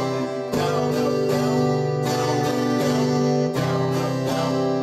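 Strummed guitar chords in a mix of eighth and quarter notes ring out loud and close, with distinct down and up strokes in a steady rhythm, no voice.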